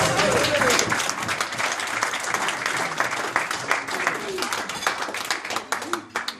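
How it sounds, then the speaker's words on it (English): A symposium crowd bursts into loud, dense applause, many hands clapping close together, with cheering voices and shouts mixed in throughout before the clapping thins near the end. "Give yourselves a round of applause"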